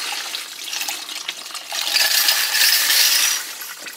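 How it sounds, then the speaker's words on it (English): Dirty water and small steel tumbling pins pour through an old frying strainer into a bucket while cleaning wet-tumbled brass. A rushing, splashing stream carries a dense metallic rattle of pins that swells louder midway. "I take this old frying strainer here in a bucket, and what I'll do is I'll pour it out into the bucket."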